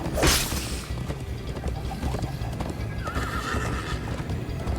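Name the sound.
horse galloping and neighing in video game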